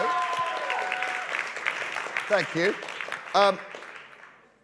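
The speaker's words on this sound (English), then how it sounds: "It was a bit of applause for Juan" Applause at the Policy Idol 2025 grand final, a steady crowd clapping that carries on under a presenter's voice and sits fairly loud behind the talk.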